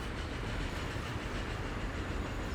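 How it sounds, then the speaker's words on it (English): A train rolls along steadily in Transport Fever 2, a continuous low rumble with faint rail clatter, moderately loud and unbroken, with no voices. "Hey, look, there's my train."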